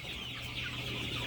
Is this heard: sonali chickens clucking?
yes